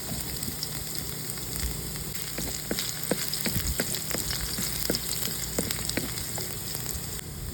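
Garlic fries in oil for salmon escabeche, a steady close crackle with a scatter of small sharp pops, like fine rain on a surface, and no speech.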